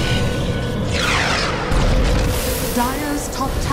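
A Dota 2 tower collapses in a deep, loud booming rumble, with swooping game effects and a game announcer's voice over the crash.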